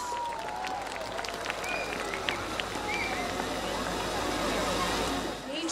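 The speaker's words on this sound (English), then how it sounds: "Please give them a big round of applause." School audience at North Point Residential School applauding performers: a continuous wash of clapping and crowd murmur, steady and moderately loud, with a few faint whistles over the top.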